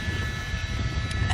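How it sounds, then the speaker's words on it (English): Police helicopter hovering overhead during a Los Angeles police chase, a steady low engine and rotor drone with a faint high whine, continuous and fairly loud, no voices. "It's very difficult for the police helicopter that's overhead, too."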